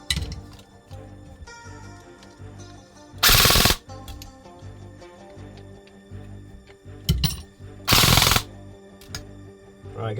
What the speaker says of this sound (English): Full auto works perfectly.